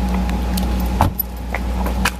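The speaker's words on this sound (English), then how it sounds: "throw my keys up in the air and hope Jeeves catches them" Car keys tossed into the air beside a supercar and caught, a short bright metallic jangle with a few clinks over a steady low engine hum.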